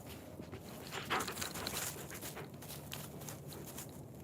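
A dog pants and moves around close by while being fitted with gear before morning exercise: steady, breathy panting with shuffling and scrabbling, fairly constant loudness, no talking.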